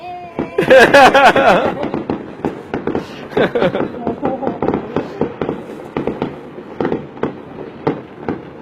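Fireworks crackle and pop in a loud burst, then continue as a long irregular string of sharp bangs and snaps, close and dense, with someone speaking briefly over the start.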